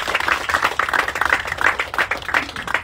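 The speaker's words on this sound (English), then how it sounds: "give a hand of applause" An audience at a community meeting claps in a brief, dense burst of applause, many hands patting together at a fairly steady volume.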